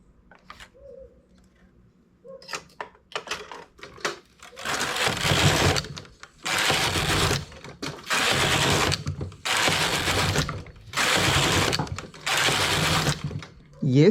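A knitting machine carriage sweeps back and forth across the bed while knitting sea foam stitch, producing five loud rhythmic rasping passes of about a second each with short pauses between them, after quiet handling clicks at the start.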